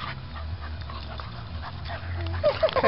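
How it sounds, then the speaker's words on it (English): Several dogs panting, whimpering and yipping close by during a dog chase, with people talking over them and sharper yelps near the end. "I just got bombarded by dogs."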